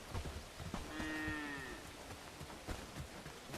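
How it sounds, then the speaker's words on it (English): Cows in the video game Bellwright moo once in a drawn-out low call amid game ambience and footsteps, fairly close and moderately loud, with no talk over it. "Out of the way, stupid cows."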